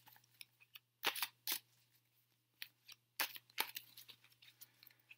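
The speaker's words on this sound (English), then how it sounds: "I know it's super loud shuffling on this board" Tarot cards shuffled on a board in short, loud bursts of riffling clatter, two main flurries separated by quieter taps and light handling noises over a steady low hum.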